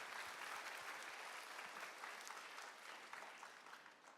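An audience at a Korean church-youth gathering claps in praise, a dense, continuous wash of applause heard from a distance, quite faint, holding steady before thinning out near the end.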